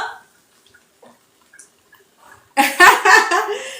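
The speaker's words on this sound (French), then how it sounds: "Maintenant, je vais venir rajouter de l'eau chaude." Hot water is poured into a pot of riz gras (rice cooked with meat and mixed vegetables): a few sparse drips, then a loud, bubbling gush of pouring liquid that fills the last second and a half.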